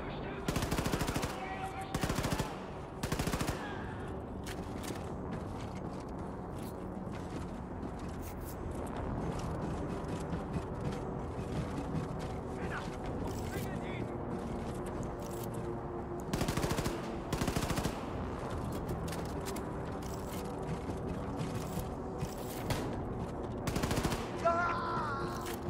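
Assault rifle fire in the shooter game Wolfenstein 2 crackles in repeated bursts of rapid automatic shots, separated by stretches of lower game ambience, with a player's voice speaking at times.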